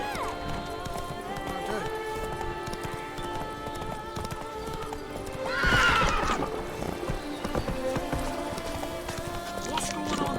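Roach, a horse in The Witcher 3, gallops with rhythmic hoofbeats and lets out a loud neigh midway, over in-game background music, with someone talking briefly.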